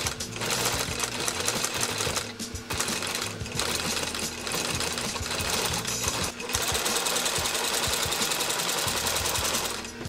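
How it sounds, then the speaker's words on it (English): A sewing machine stitching leather with cord thread runs loud and close in long bursts of rapid, rattling stitching, pausing briefly before starting again. "I'm just going to go take this over to the sewing machine"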